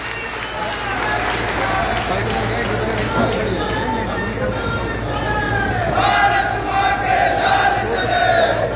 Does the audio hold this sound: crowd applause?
yes